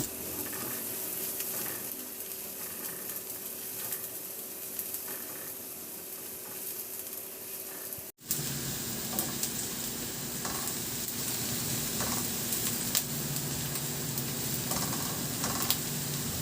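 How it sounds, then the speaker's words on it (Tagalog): Garlic, then onion, sauté in hot oil ahead of pork ribs cooked in Sprite. A steady close sizzle breaks off briefly and returns louder and brighter, with faint stirring sounds throughout. "Magpainit na ako ng mantika at igisa ko na yung bawang. Ilagay ko na rin yung sibuyas."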